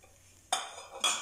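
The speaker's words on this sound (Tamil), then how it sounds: "கொஞ்சம் மீடியம் ஃப்ளேமில் வச்சு வெண்ணெய் உருகிற வரைக்கும் இப்படி கலந்து விட்டுட்டே இருங்க" A utensil stirs butter melting in a pot over a medium flame while making ghee, giving two sharp metallic clinks about half a second apart against a quiet background.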